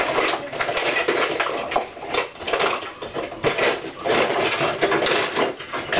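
Whisking in a bowl while making bread pudding: a quick, continuous clatter of the whisk against the bowl, close and fairly loud, with small swells in rhythm and no speech.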